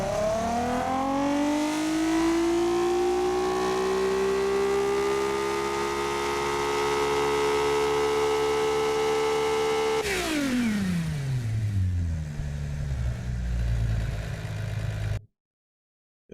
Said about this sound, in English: Do you want to hear the engine?